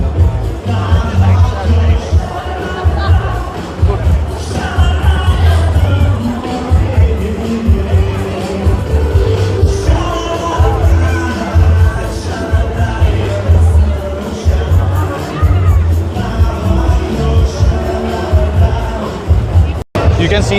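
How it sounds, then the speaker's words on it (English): A large, dense crowd packs Mall of Asia in Bangalore among its Christmas decorations at night, a steady loud hubbub of many voices with music-like tones running throughout. "You can see there is too much crowd now."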